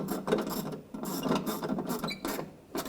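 Ratchet tightening the battery mount on a 2009–2010 BMW 535i xDrive, a close series of quick mechanical clicks and scrapes in short bursts, with no talking.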